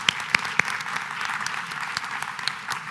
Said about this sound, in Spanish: creo que se merecen un tremendo aplauso nuestros 3 panelistas